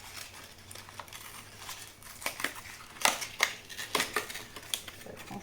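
A plastic pack of cherry tomatoes is opened, giving a string of sharp, close crackling and crinkling snaps that turn busier and louder toward the end, with no talking.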